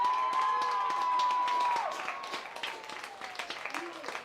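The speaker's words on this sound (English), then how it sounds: "A round of applause for our buddy Josh Bush." A crowd at a Legion baseball game between Hartland and Wisconsin Rapids applauds a two-out triple. Scattered, fairly faint clapping and cheering come from the stands, with a sustained tone and some voices at the start before the clapping thins out.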